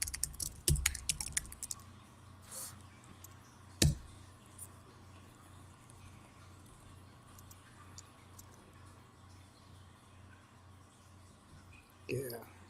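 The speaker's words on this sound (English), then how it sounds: "I'll just type a couple of things." Typing on a computer keyboard during a live stream: sparse key clicks and a few louder taps, mostly quiet between them, with faint background hum.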